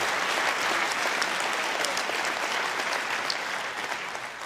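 Sustained applause from a large audience, a dense, continuous clatter of many hands that holds steady before easing off slightly at the end.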